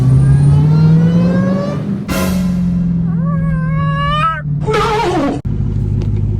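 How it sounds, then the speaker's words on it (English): A Dodge Hellcat accelerating hard, with a loud, close engine roar and supercharger whine rising through several gear pulls, each climb cut by a brief drop at the shifts. "Y'all wanna hear some supercharger?"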